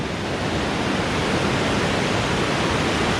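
Rushing river rapids roar below a suspension bridge on a rocky gorge, a dense, steady wash of white water filling the scene from start to finish with no voices over it.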